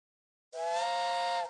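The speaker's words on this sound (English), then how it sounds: "When both trains have the same number of sections, click the train whistle button." A steady, harmonic train whistle tone from the Curious George Train Station video game starts after half a second of silence and holds loud and unbroken to the end, with no talk over it.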